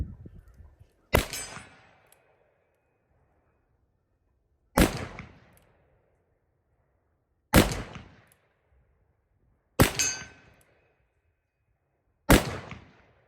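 A Ruger Vaquero single action revolver fires black powder rounds: five loud, sharp shots spaced a few seconds apart, each with a short ringing decay and no talking.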